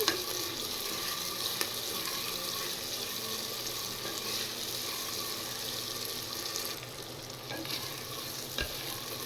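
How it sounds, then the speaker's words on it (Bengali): Chopped onions with whole garam masala and cumin fry in a pan, giving a continuous close sizzle with occasional stirring scrapes and light clicks, steady in level and free of talk. "এবার এগুলো ভালো করে ফ্রাই করে নিই, পেঁয়াজগুলো"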